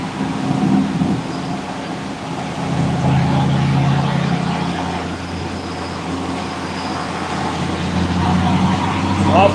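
A 2004 Pontiac GTO runs hard on a dyno, a loud, sustained engine roar that swells and holds with a rising pitch through a gear change, with voices faintly underneath.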